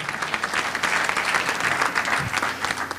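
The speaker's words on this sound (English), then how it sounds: "Give him a round of applause" A crowd at a large-city conference session breaks into sustained applause, a broad wash of many clapping hands that holds steady throughout.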